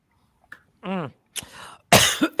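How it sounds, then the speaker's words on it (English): A short vocal sound, then a couple of harsh coughs up close, the last one loud and rough, with brief pauses between. "It's a 420 cough. That's my 420 cough."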